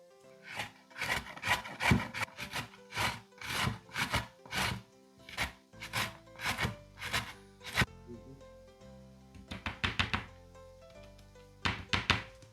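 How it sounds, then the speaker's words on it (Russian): A knife dices an onion on a wooden cutting board in a steady run of sharp, close chops, pausing briefly before a few more quick bursts of cuts; no talking. "Лук нарезаем произвольно, можно кубиками, можно соломкой."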